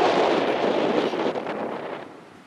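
Strong wind blows across a sandy beach on Mustang Island, Texas, hitting the microphone as a loud, close, broadband roar that eases slightly toward the end. No one speaks.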